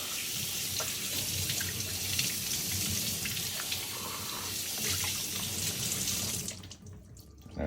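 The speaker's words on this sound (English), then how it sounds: "now all I'm gonna do is I'm gonna rinse this chicken" Tap water runs steadily into a kitchen sink as a raw chicken is rinsed inside and out, a close, continuous splashing rush that cuts off sharply near the end.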